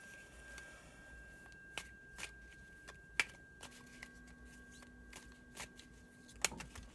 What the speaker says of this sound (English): they want me to pull some more cards to give you a little bit more insight